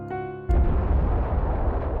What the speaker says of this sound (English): The ground beneath us rumbles, and a thunderous roar echoes around us.